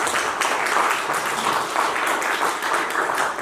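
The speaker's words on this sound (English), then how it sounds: "please give another round of applause for our panelists" At a church panel discussion, an audience applauds the panelists with a dense, steady round of clapping that fills the room for a few seconds.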